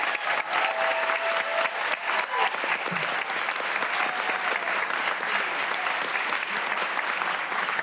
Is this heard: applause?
yes